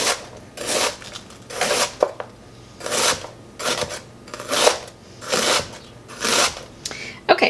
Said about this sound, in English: just go in and cut up your cabbage fairly fine